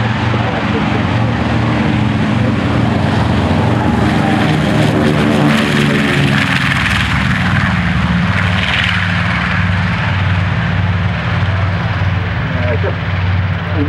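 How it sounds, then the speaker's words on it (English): A North American B-25 Mitchell bomber taking off at a military aviation museum, its piston engines and propellers roaring loud and steady, with a low droning hum that holds throughout. "Got a B-25 taking off now."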